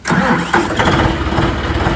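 A loud 5103 tractor engine cranks and catches, then settles into a rough, chugging idle close by.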